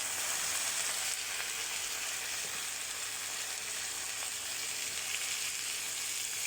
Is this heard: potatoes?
yes